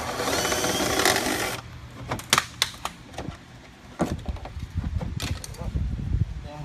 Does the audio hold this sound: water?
no